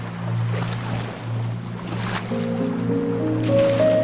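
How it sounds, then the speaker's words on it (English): Footsteps wading slowly through water in a video game, set in a dark slum, with sloshing, squishing splashes repeating in a steady rhythm over a low ambient drone, a faint tonal hum rising toward the end. "Walking slow as shit in the water, Rachel, but I'm coming."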